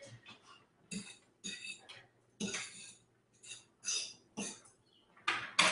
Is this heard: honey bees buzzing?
no